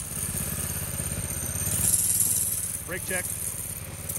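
A vintage go-kart engine runs steadily at close range, its throttle easing up and swelling louder before settling back, while people talk over it.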